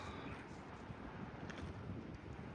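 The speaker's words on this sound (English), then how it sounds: "That is the wind. We're having some pretty good gusts." Wind gusting on a hill beside a railway, a faint, low, continuous rumble of buffeting against the microphone with a slightly breathy hiss on top, steady with no breaks and no voices.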